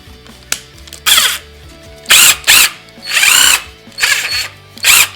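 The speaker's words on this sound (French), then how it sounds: "la visseuse à choc, alors qui elle fait un peu plus qualitatif que la visseuse dévisseuse" Several short bursts from a Hychika cordless impact driver run freely indoors in an office, each loud whirring buzz lasting under a second, separated by brief pauses, with no talking.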